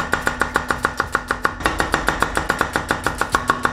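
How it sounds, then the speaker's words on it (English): A knife slicing onions on a cutting board in quick, even rhythmic taps, about five per second, close and clear with no talk. "Roughly slice the onions, just make sure they're not too thick."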